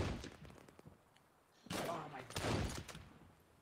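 Gunfire in the Contractors Showdown game comes in scattered bursts, a few quick shots up front, then two louder rapid volleys near the end, mixed with faint voices.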